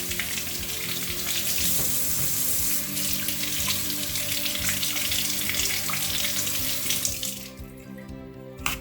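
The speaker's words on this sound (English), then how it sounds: "So I'm washing the apples first, and I'm gonna dry it afterwards and slice them into cubes." Apples rinsed under a running kitchen tap, a steady loud rush of water splashing into the sink for most of the stretch, cutting off abruptly near the end.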